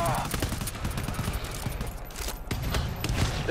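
Gunfire from a weapon in the video game GTFO comes as dense, repeated bursts of shots in a loud, busy game mix throughout.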